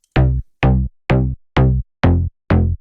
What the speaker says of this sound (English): I have this little bootleg sound here